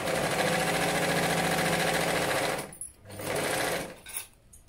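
A sewing machine stitches silk lehenga cloth in a loud, steady mechanical whir close by, stops abruptly, runs again for a short burst, then halts.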